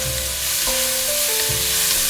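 Bell peppers frying in a pan with a little oil, a loud continuous close sizzle with faint stirring and no voices.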